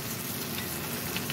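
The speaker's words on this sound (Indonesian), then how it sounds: "kita goreng dulu bagian sebelahnya, tunggu sampai dengan yang bagian sebelahnya kuning seperti ini" Red snapper fish frying in hot oil in a home kitchen, a steady close sizzle and crackle with no talking.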